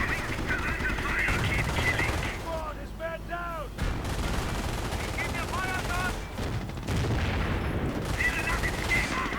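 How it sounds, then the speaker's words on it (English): An MG42 machine gun firing at a Sherman tank in a WWII video game battle, with rapid bursts of rattling fire, booms and battle noise layered under synthetic chirping game sounds. "MG42 firing pointlessly at the Sherman, in fact, as it's getting torn apart"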